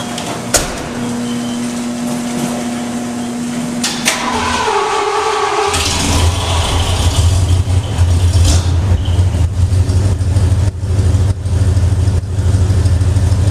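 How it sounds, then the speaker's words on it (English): An old vehicle engine cranks and catches after a few seconds, then settles into a steady, loud, close idle with a rough low rumble. "So go ahead and fire it up, Phil."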